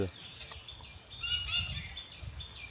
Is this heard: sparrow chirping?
yes